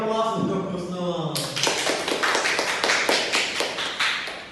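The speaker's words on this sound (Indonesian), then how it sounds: "Beri aplaus untuk Husnul" Classroom applause for a student after a biology lesson, a burst of many hands clapping that starts abruptly after a short spoken phrase and keeps going steadily, fairly close and loud.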